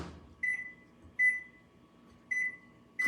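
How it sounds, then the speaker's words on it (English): Microwave oven cooking food, a steady low hum with a faint tonal drone, broken by three or four short high beeps at roughly even intervals. "so cover back to the microwave for 6 minutes"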